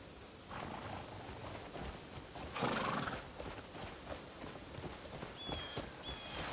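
A horse in Crimson Desert whinnies and clops its hooves, a loud neigh cutting in mid-clip over steady rhythmic hoofbeats, with a bright high call near the end.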